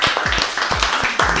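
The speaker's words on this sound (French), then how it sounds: "applaudissements pour le défi de Steph" A short burst of close, rhythmic hand clapping from a small group celebrating a challenge on a French radio show, several sharp claps in quick succession with no talking.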